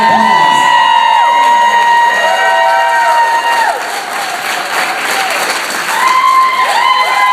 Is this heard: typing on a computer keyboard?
no